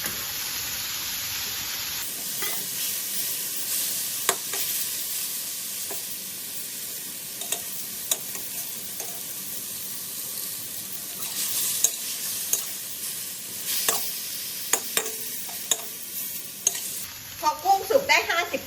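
Shrimp stir-frying in a hot pan for spicy Thai seafood, a steady loud sizzle with scraping stirs throughout, intensifying with sharper clatter near the end.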